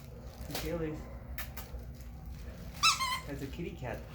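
A dog works a squeaky toy, giving a couple of sharp, brief squeaks amid soft chewing and shuffling, while people chat nearby throughout.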